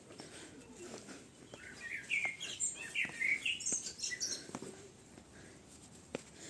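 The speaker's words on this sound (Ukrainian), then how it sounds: "пташки співають" Birds sing faintly in the distance at an open-air folk architecture museum in Transcarpathia, a few high chirps and trills over a quiet outdoor background.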